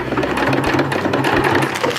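A sewing machine stitches a Dyneema stuff sack with a loud, close, rapid mechanical whir that runs steadily throughout.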